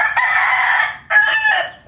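A bullstag rooster, father of the chicks, crows loudly and close by, a single strained call broken into two bursts over under two seconds.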